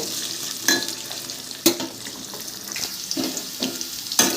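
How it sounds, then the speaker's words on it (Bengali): Potatoes frying in oil with panch phoron spices for a Bengali curry, with a steady close sizzle broken by several sharp stirring scrapes against the pan, and no talking. "পাঁচ ফোড়নের সাথে আলুটা ভেজে নেব"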